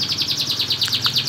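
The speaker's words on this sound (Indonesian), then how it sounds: "Nyambi ngurusi manuk kenari." Canary song from a caged collection bird, a bright rapid run of repeated high chirps and trills in a steady pulsing rhythm, close and clear with no talking.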